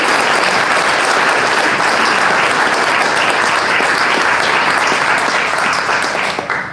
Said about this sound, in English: let's give Suzanne a round of applause.